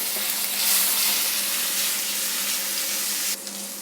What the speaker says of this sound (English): Just lightly roast them. And then we add the garlic pods into it.